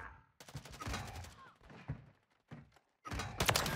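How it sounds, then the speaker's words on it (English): Shotgun loaded with slug rounds in Call of Duty MW3, firing in a quick cluster of heavy, punchy blasts with short gaps between them, then another burst at the end. "with a shotgun with slug rounds like this"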